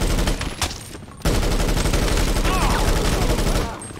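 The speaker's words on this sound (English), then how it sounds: "It's basically a pump gun. I'll show you guys here." Combat shotgun, a pump gun, firing in GTA 5 Online: loud blasts in quick rapid succession with a brief pause, then a sustained string of booming shots that fades out, alone with no talk.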